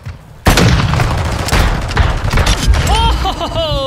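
Video game sniper rifle shots ring out in a loud, booming burst, several sharp cracks with echoing tails over rumbling noise, followed by brief whistling tones.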